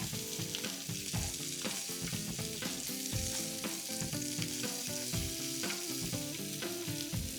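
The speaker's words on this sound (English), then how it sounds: "These are just going to cook for a few minutes" Large fresh shrimp frying in a pan, a continuous close sizzle and crackle with scattered pops and light utensil knocks, steady and moderately quiet throughout, no voices.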